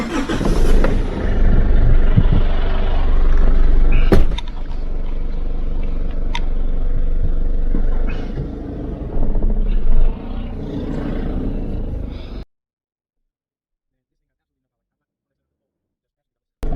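A Holden Isuzu Rodeo suffering from a lack of power, out on a test drive: a steady engine drone and road rumble from inside the cab with a few sharp knocks, then a cut to silence.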